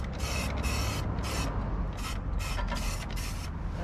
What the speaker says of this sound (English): Right there is how you apply paint.